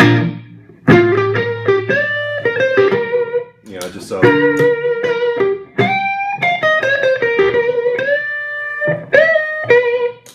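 Electric guitar through a Rook overdrive pedal plays a string of bluesy notes and bends with a warm, crunchy tone, brief pauses between phrases, and a few words spoken.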